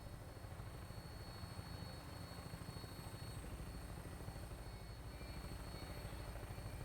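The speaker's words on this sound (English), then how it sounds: "Another nighttime flight on a vertibird." A vertibird flies at night in Fallout 4, producing a constant low rotor drone with a steady rumbling hum, faint and unbroken throughout.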